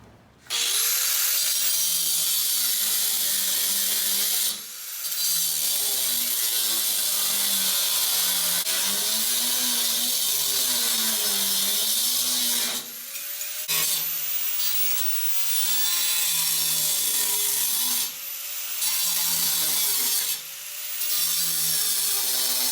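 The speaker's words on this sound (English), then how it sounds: "I have to remove this bracket, which is a mounting bracket, and I have to cut this off" Continuous grinding-wheel cutting of a steel mounting bracket on a 1946 Jeep Willys body, loud and close with a steady harsh whine that briefly drops out a few times as the tool lifts off the metal, no talk.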